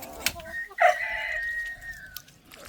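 A rooster crows once in a drawn-out, wavering call that sounds unsteady and unfinished, close by, with a brief scratchy noise just before it.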